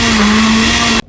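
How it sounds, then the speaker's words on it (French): A kitchen blender runs steadily at full power, grinding vegetables for an Ivorian pork soup, a loud, even motor whine that cuts off abruptly after about one second. "Puis vous allez broyer vos légumes."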